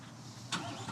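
A 2025 Corvette C8 Z06 in Competition Yellow fires up, a sharp starter catch about halfway through bursting into a loud, broad engine roar that holds steady after a quieter low rumble.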